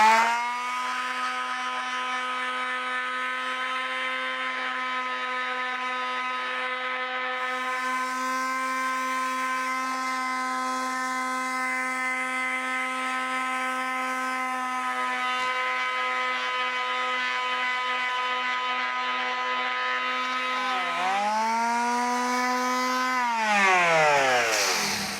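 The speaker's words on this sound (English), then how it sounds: "even though I'm using a finish sander, I've got very heavy grit. I've got 40 grit sandpaper on this" Finish sander fitted with 40 grit sandpaper shaping the front of a model aircraft rudder, a loud steady motor whine holding one pitch, then dipping and rising as it bears on the wood before cutting off.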